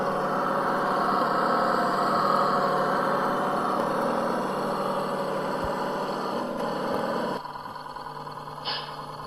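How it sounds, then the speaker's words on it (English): An RC truck sound module plays a Detroit 671 diesel engine sound, a steady droning idle that runs loud and unbroken for several seconds, then drops lower and quieter near the end; no one speaks. "I can put any engine sound I want in the truck. I went with the 671 just because it's unique and obnoxious as hell"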